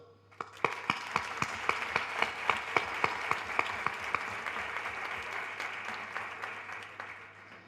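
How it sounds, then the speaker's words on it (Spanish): A room full of people applauding, with a few crisp, steady claps standing out early before the clapping blends into a sustained wash. "quiero agradecerle con este aplauso"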